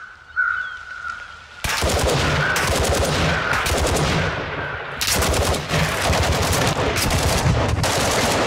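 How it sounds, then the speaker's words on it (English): Rapid automatic gunfire from a Call of Duty DMZ match, loud and dense, pouring out in sustained bursts with brief gaps and a sharp restart midway, alongside a faint tone at the very start. "Shooting at me, stop. Stop shooting at me."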